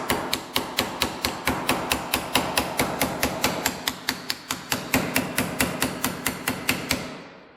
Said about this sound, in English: What we're doing is shrinking it as you pound it down into itself.